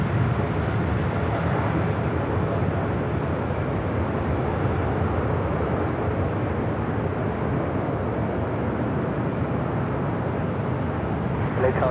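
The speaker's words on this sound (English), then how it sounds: "You have Green Air Cargo, 777 freighter taking off on the south side" At Los Angeles airport, a Boeing 777 freighter of Green Air Cargo takes off from the south side, a constant broad engine roar holding steady and loud throughout.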